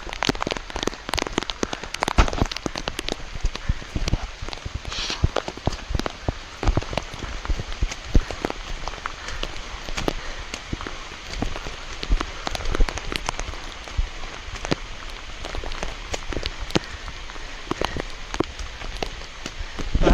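Rain pours steadily onto a hillside along a pilgrimage climb to a temple, a dense, loud patter of drops striking ground and leaves, continuous throughout with occasional sharper splats.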